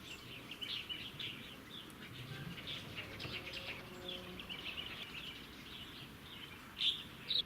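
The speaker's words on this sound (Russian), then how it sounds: "Птички поют." Small birds chirp and twitter faintly at the entrance to Qiliang Cavern in China, with scattered high calls over quiet ambience and a couple of sharper, nearer chirps near the end.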